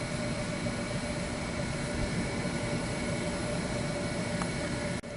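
Hydraulic motor and pump of a 6-ton Abex Denison multipress running, a steady dense mechanical hum and whine, loud and close, with no talk.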